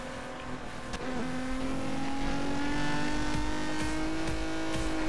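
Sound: Maserati car engine in the video game Need for Speed: Most Wanted

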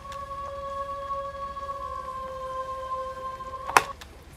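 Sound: female choir vocals in a song

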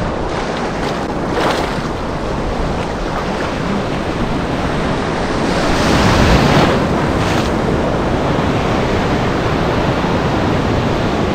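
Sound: ocean waves while surfing in Goa

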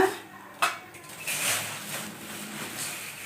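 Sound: kadai pan being placed on the stove

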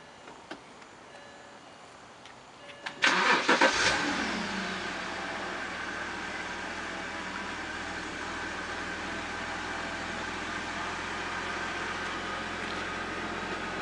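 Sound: BMW car engine starting with push button

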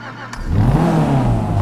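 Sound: Dinka Postlude car engine revving in video game GTA 5

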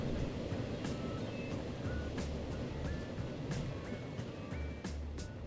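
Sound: train running in video game Transport Fever

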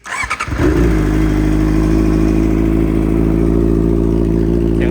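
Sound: Honda CBR650R motorcycle engine starting and running

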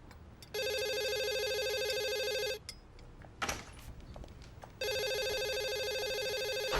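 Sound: telephone ringing

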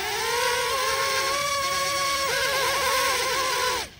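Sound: small cheap drone motors running at full throttle

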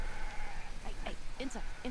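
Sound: sheep bleating in a video game

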